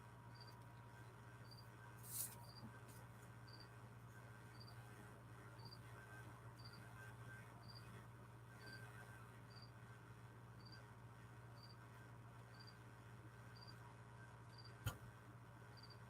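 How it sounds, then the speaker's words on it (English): A cricket chirps somewhere close behind, a faint, steady series of high, evenly spaced pulses over a constant low hum, with a brief click or two. "I have a cricket chirping behind me somewhere"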